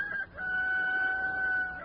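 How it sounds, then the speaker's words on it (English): Chickens and a rooster on a farm in a 1950 radio crime drama, with a sustained crow and clucking heard clearly and close, and no talk over them. "listening to those chickens and that crazy old dame cackling"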